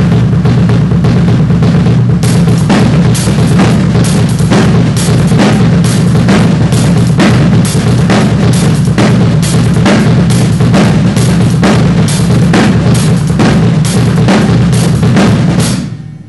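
Drum kit at full volume, hands running paradiddles while the feet play five-a-diddle rudiments, dense continuous hits with sharp cymbal and snare crashes for sixteen seconds, no talking.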